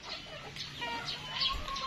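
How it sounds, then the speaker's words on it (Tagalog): A flock of farm chickens on a rainy-season plantation clucks and murmurs together, overlapping soft calls with a brief flutter, near and moderately loud, with no talking. "Ito yung mga manok namin."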